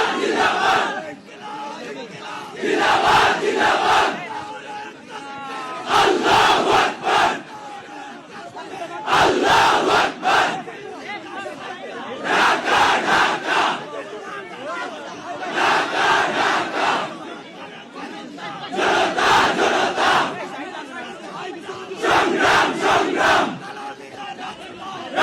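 A large crowd chants political slogans at a shrine in call-and-response bursts of roughly two seconds each, repeating in a steady rhythm about every three seconds, loud and close throughout.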